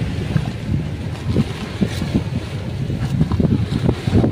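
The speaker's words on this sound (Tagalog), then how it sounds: "medyo malakas ang hangin" Strong wind gusting across Manila Bay after a typhoon, a steady low roar of rumbling buffeting with water washing beneath it, loud and continuous with no voices.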